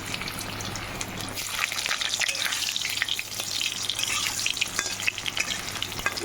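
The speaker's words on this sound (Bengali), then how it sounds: "সেই আলুটা এখন এর মধ্যে ছেড়ে দিচ্ছি দেখো তো আলুটা একটু লাল লাল করে ভেজে নেবো" Potatoes fry in hot oil with cumin and bay leaf in a home kitchen, a continuous crackling sizzle with occasional stirring scrapes and no talking.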